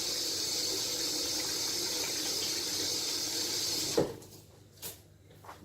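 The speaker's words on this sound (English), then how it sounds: "I'm washing my hands." Running tap water pours steadily while hands are washed during steak preparation, a close hiss that stops abruptly, followed by a few soft thuds and knocks in a quiet kitchen.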